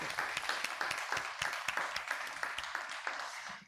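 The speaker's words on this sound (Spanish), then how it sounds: "Señora Gertrudis Guerrero, eso merece un gran aplauso." Audience applause at a freedom-of-expression event, a quiet, dense patter of many hands clapping, with some sharper individual claps standing out across the short stretch.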